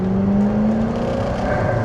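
A 2004 Lotus Esprit V8 twin turbo Final Edition drives along, its engine a steady, loud drone with a slowly rising pitch and a continuous road rumble beneath, with no talking.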